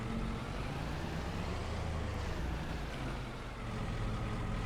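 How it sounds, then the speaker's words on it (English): A giant truck engine in the Elm Creek farming game, a steady loud low drone with constant rumble throughout, no pauses or talk. "Well, I like this truck. I like the sound of it."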